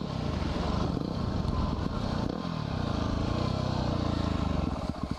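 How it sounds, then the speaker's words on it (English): Honda motorcycle engine revving during an evening ride, loud and close with wind rush, the note swelling and falling as the throttle opens, then sharp pops near the end. "so I revved my engine at her"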